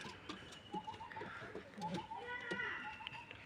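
Soft rock pigeon cooing repeats in low murmuring phrases, mixed with faint chatter and background noise.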